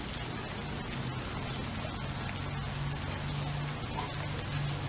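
Steady rain falls through trees, a dense even patter on leaves and ground with no breaks, close and moderately loud, with a faint low hum beneath.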